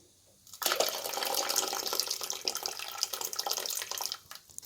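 Ground coconut paste being poured into a simmering emperor fish curry, a continuous close splashing pour that starts abruptly and runs for several seconds before fading out.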